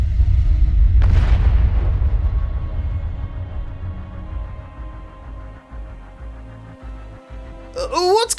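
A deep, loud detonation booms in a narrated Arknights story, followed by a long rumbling decay that fades over several seconds before a voice begins speaking.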